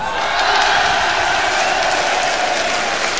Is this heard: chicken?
no